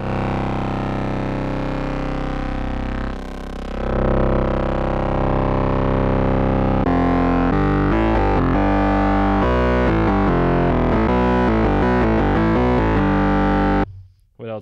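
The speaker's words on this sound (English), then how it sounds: "Oh, I also have a tube amp. I can add more distortion." Synthesizer tones pushed through overdrive and tube amp distortion in Bitwig Studio, a thick, buzzing FM-style sound with a short pause near three seconds, then rhythmic distorted notes in steady succession, loud and alone before cutting off.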